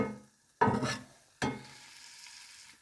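Mushrooms, bacon and onion warming in a frying pan, with two sudden bursts of close scraping and sizzling, the second trailing into a faint, steady hiss.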